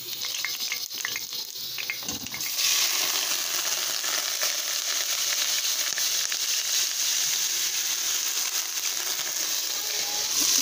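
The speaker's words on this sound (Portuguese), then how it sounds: "Veja que a carne já tá fritando aqui" Continuous loud sizzling and crackling of meat frying in hot oil for Maria Isabel, growing stronger after a couple of seconds as the oil cools, with occasional stirring scrapes.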